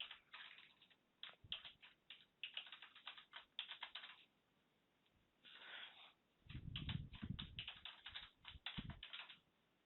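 Rapid keystrokes on a computer keyboard while logging into a machine, coming in uneven bursts with short pauses, moderately close and alone with no talking, plus a few low thumps partway through.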